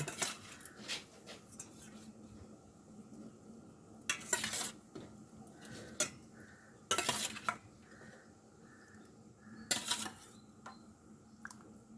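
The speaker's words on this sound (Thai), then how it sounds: "แล้วก็จะใส่ไข่ลงไปเลยนะคะ ไข่นี่เราก็คลุกอ่าซีอิ๊วแล้วนะคะ ใส่ไข่ลงไปเลย" Soy-sauce-coated eggs go into a pot of braised pork-leg palo stew, with soft clinks and scattered louder clattering bursts of utensils against the pot in a quiet kitchen.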